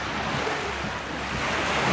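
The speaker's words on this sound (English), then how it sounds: "A little bit nicer, so we've got the ocean." Ocean waves wash steadily onto Faliraki Beach, a continuous broadband surf roar with some wind noise and no voices.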